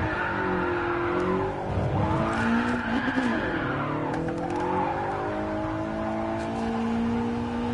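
Car engine held at full throttle through a drift in a VR racing game on a Kyoto circuit, a steady loud drone with rising and falling pitch, tire squeal woven through, continuous with no pauses.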